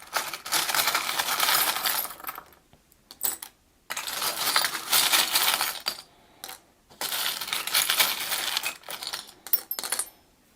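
Small metal tarot charms clink and jingle as they are handled and shuffled, in three long bursts separated by brief silences, close and crisp.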